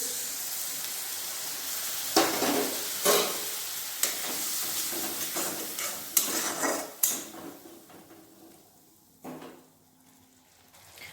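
Spice paste with melted tomato fries in a pan for broccoli and potato curry, a soft steady sizzle broken by several scraping stirs and utensil knocks against the pan.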